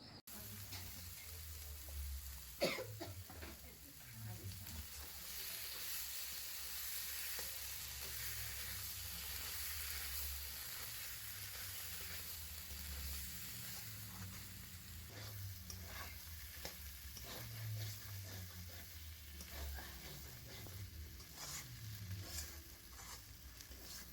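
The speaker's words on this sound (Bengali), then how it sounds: "এবারে মশলার সাথে খুব ভালো করে নাড়াচাড়া করে নেব।" Boiled potatoes and peas stirred into fried spice mix in a pan for onion- and garlic-free ghugni, with a quiet steady sizzle and repeated soft scraping strokes over about twenty-four seconds.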